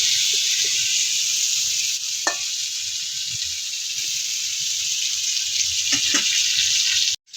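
Pointed gourd (potol) frying in hot oil gives a steady, close hiss of sizzling with a few faint clicks and pops. It cuts off abruptly at the end.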